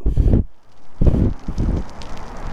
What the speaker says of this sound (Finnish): Tämä nyt on mukamas sitten tuulta.